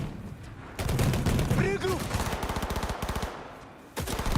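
Rapid machine-gun fire in the Cyberpunk 2077 video game, loud sustained rattling bursts with brief gaps and a final burst, while a voice briefly speaks over the shooting.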